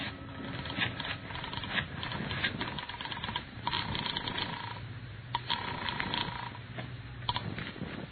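Telephone receiver handled and dialed in an old-time radio detective drama, heard as a dense, muffled clatter of small clicks and mechanical ticking that runs continuously through narrow-band, lo-fi audio without speech.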